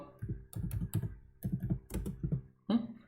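Typing on a computer keyboard sounds as close clusters of quick key clicks in short bursts with brief pauses, ending on one heavier keystroke.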